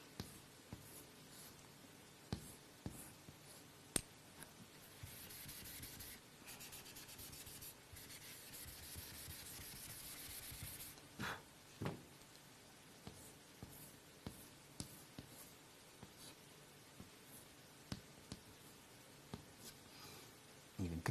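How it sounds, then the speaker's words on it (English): Pen or pencil drawing a cube on paper, heard as quiet, close scratching and rubbing strokes with scattered soft taps, running under occasional talk. "So I can take this cube and draw another cube on top."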